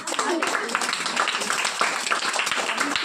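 Children clapping in applause at a Christmas gift event, a steady burst of many hands close by, running for a few seconds with voices mixed in.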